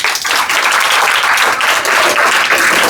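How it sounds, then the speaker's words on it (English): An audience at a Chhatrapati Shivaji Maharaj Jayanti celebration gives a big round of applause for eleven participants, loud, dense clapping from many hands that runs continuously without talk. "You can give them big round of applause."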